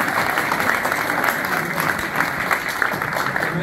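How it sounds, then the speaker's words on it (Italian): Applause from an audience of students and teachers at a welcome ceremony in a town hall, a dense, steady clapping that fills the room at full volume throughout, with faint crowd murmur underneath. "Un applauso era per Stefano"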